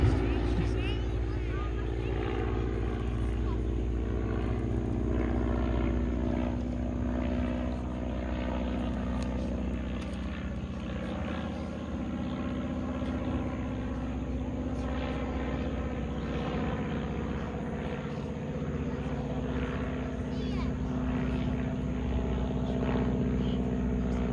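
A PT-17 biplane flies at an historic aviation weekend at the American Heritage Museum, its radial engine and propeller giving off a steady, continuous drone that eases slightly as the throttle is pulled back.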